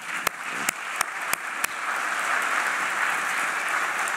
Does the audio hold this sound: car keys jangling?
no